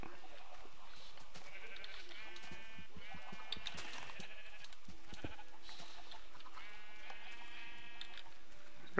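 Sheep in the game Minecraft bleat repeatedly in short wavering calls across the scene, close and clear over a steady low background, with no talking.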